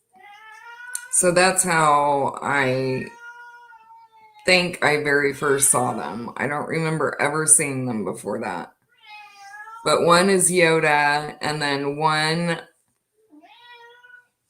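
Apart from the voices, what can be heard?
domestic cat meowing to go outside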